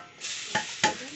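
Food fries in a pan with a loud, even hiss, interrupted by two short scraping clatters close by.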